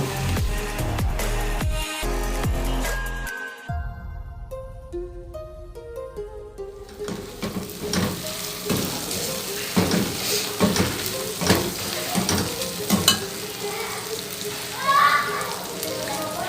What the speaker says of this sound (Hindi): वो भी हम प्याज के साथ शामिल करेंगे और इसको अच्छी तरह से भुनेंगे।